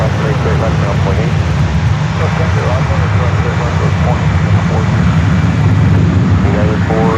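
Airliner taking off at San Francisco airport, a loud, steady roar of jet engines rumbling across the airfield, with radio chatter from air traffic control running over the noise throughout.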